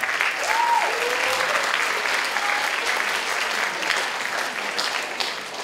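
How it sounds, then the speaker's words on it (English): An audience at a spring school band concert applauds student clarinet and French horn players, steady dense clapping filling the room throughout. "A round of applause for them."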